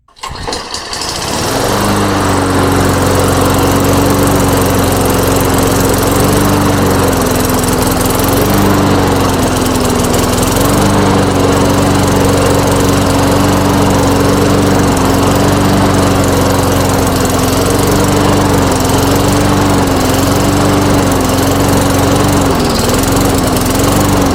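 A Tecumseh engine on a Mastercraft lawn mower, blowing smoke, starts and then runs loud and steady close by, its drone hunting up and down in a regular surging rhythm, with no talk.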